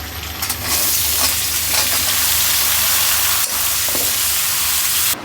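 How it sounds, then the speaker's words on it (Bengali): Papaya pieces frying in butter in a pan, a steady close sizzle and crackle that runs throughout with a few brief stirring scrapes. "পেঁপেটাকে কিছুক্ষণ বাটারে ভাজছি"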